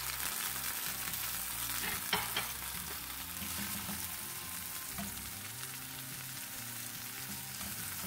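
Spring roll filling with paprika and soy sauce stirred and fried in hot oil, a continuous close sizzle with scraping stirring strokes and occasional clatter, no talk.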